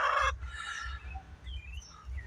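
Free-ranging chickens cluck in a garden, a burst of layered calls at the start followed by softer, repeated low clucks and scattered chirps at close range, with no talking.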